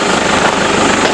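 Camera drone flying close by during an offroad outing, its steady high-pitched rotor buzz filling the air loud and continuous, with no voices over it.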